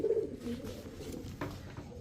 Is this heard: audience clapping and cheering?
no